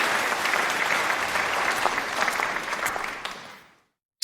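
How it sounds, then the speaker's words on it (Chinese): A room full of people claps warmly to congratulate a winning bidder at an auction, the dense, steady applause fading out near the end before a short silence. "让我们以热烈的掌声祝贺她"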